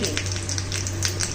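Dried red chilies and whole cumin seeds crackle in hot oil with a close, dense sizzle and scattered pops over a low steady hum.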